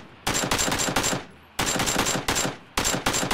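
Bursts of automatic weapon fire in the battle royale game PUBG, three loud rapid-fire volleys separated by short gaps, each a quick string of sharp close shots.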